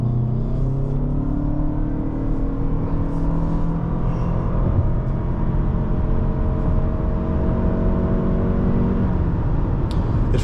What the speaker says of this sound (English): Accelerating here just feels pleasant.